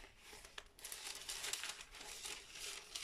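A very thin, rice-paper-like sheet is handled close up, giving soft, continuous crinkling and rustling with a few sharper crackles, quiet and alone without voices.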